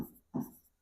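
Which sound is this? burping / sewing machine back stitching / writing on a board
writing on a board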